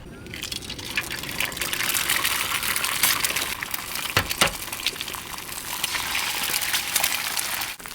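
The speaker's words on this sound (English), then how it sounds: "My rice is bubbling." Rice bubbling hard in a pot over an outdoor fire, a dense continuous seething hiss with popping bursts and a short clatter partway through, loud and close.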